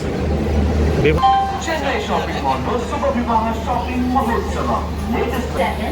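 An MMTS local train pulls out of Kacheguda railway station, its low steady rumble running throughout while someone talks over it close by.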